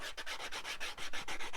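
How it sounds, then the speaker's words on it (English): Hand sanding the edges of a wooden Dennison-style box: quick, rhythmic rubbing strokes, about a dozen in a row, close and fairly quiet, with no talking. "I'm just going to sand it a bit"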